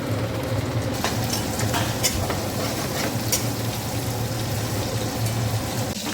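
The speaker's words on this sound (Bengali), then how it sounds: "মাংস দিয়া মশলার সঙ্গে ভাজি করে নেব" Chicken skin fries in oil with cumin, turmeric and dried chilli paste, giving a continuous, close sizzle with light stirring scrapes throughout.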